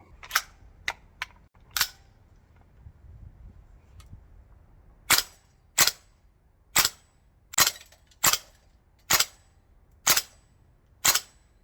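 A 2025 Prow Spear XM7 gas blowback airsoft rifle fired outdoors at a range: a quick cluster of four sharp cracks, a pause, then eight evenly spaced loud snapping shots with brief gaps between.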